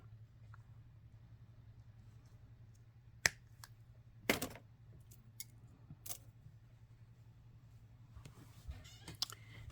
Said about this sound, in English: Here, cut this link.